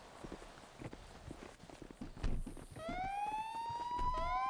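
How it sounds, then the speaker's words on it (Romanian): A police siren in the FiveM video game wails in rising and falling sweeps over the last couple of seconds, preceded by scattered footstep-like thuds and faint background noise. "Să oprești sirenele"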